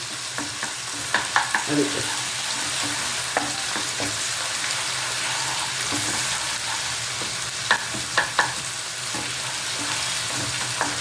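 Ginger-garlic paste, about a spoonful, fries and gets stirred in a pan, giving a steady sizzle with scattered scraping clicks of a spoon. A single brief word is spoken.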